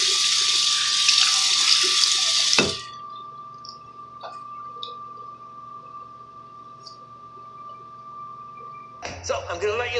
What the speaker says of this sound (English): Now I'm gonna wash my face.